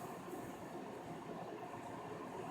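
Inside a moving subway train, a steady, dense rumble of wheels and car noise rolls on without a break, with no voices.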